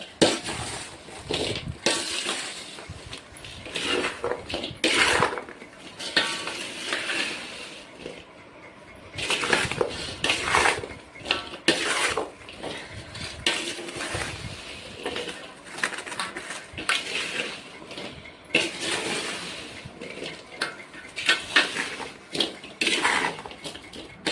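Maharashtrian pickle ingredients mixed with oil in a vessel, heard as repeated scraping, clattering and metallic clinks of a utensil against the container, uneven and close, with no speech.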